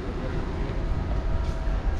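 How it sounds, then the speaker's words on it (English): Inside a third-class train compartment in Sri Lanka, the moving train makes a constant, loud, broadband rumble and rattle that fills the whole stretch without pause. "So this is a third class compartment and it was really comfortable actually."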